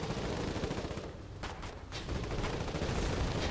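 Tank cannon and heavy gunfire in the war video game Foxhole form a dense, continuous barrage of booming shots, loud and sustained with a brief lull midway.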